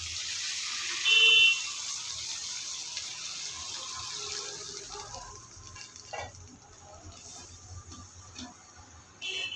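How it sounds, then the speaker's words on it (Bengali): Water is poured into a simmering soybean, egg and potato curry, giving a soft, steady splashing hiss that tapers off unevenly across the clip. "পরিমাণ মতো পানি দিয়ে দেবো।"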